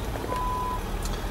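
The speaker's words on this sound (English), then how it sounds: "resort to the sonar with the coloured bars and the audible beep" Reversing sonar beeps inside a Ford Territory Titanium AWD, a soft electronic tone sounding once over low engine idle and cabin rumble, fairly quiet and close.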